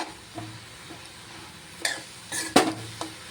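Soya keema being stirred in a pan with salt, turmeric and garam masala, a soft continuous sizzle broken by a few sharp scrapes and clinks of the spoon against the pan, close by with no talking.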